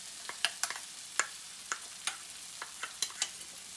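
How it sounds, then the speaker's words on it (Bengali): A spoon stirs ginger garlic paste into frying onion and tomato for ghugni, a white peas curry, in a pan: a dozen or so sharp scrapes and clinks in an uneven rhythm over a quiet, soft sizzle, with no voices. "এবার আদা রসুনটা পেঁয়াজ আর টমেটোর সাথে আমি খুব ভালো করে মিশিয়ে নেব।"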